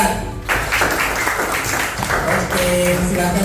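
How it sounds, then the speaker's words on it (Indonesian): A Grade 5 primary school class claps for a group of classmates, a dense, steady patter of many hands filling the room from start to finish, with faint voices mixed in. "Beri tepuk tangan untuk kelompok 4."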